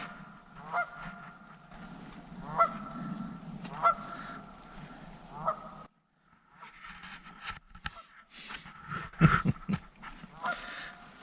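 A duck calls loudly in Loyalsock State Forest, giving repeated honking quacks in uneven bursts with short gaps and a brief quiet spell partway through.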